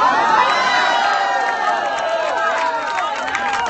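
A dense crowd cheers, whoops and shouts continuously at a gun control sit-in outside the Capitol, with overlapping voices filling the space at a steady, loud level.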